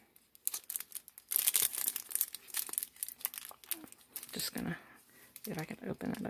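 Plastic crinkles and tears as a package of wine stickers is opened, with close, bursty rustling that comes and goes over several seconds while a voice is faintly heard speaking.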